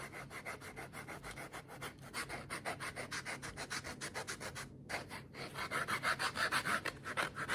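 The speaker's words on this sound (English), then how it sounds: "the good old-fashioned rasp will get you there" A hand rasp shapes a wooden fishing lure in rapid, even back-and-forth strokes, several per second, a dry scraping rhythm heard close but fairly soft, with one brief pause midway.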